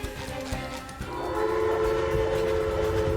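A train in the video game SpongeBob SquarePants: The Cosmic Shake rumbles loudly and steadily, with a sustained horn-like tonal blast building in after a second and continuing over the clatter of rolling wagons, close and prominent with no speech.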